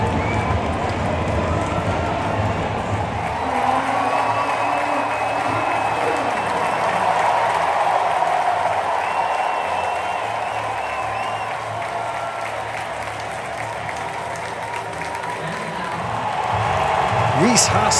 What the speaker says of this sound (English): Rhys Hoskins heard roars from the crowd when he threw out the first pitch.